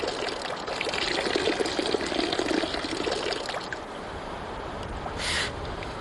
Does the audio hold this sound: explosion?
no